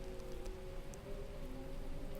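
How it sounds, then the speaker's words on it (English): Rain and wind ambience in the game Beacon Pines, a quiet steady patter of rain over a low soft wash with a faint tonal hum beneath. "right now we just have rain sounds and wind sounds"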